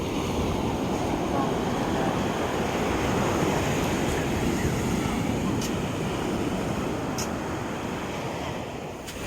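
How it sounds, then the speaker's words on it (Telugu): Ocean surf rushes in a steady, loud wash of breaking waves, with wind blowing across the microphone. "అలలు అయితే ఎక్కువగా వస్తున్నాయి"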